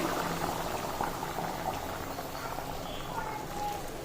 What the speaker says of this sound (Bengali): একটু ফুটবে পাঁচ মিনিট ফুটবে